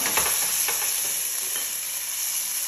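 Onion with ginger and garlic sautéing in a pan, a steady bright sizzle with a few scraping stirs of the utensil at close range, continuous throughout and with no talking.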